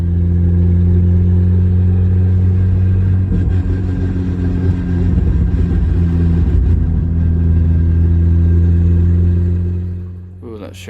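A Volvo 740/940 on a test drive after a CD009/CD00A transmission swap, its engine holding a steady, loud low drone that shifts slightly midway and fades near the end.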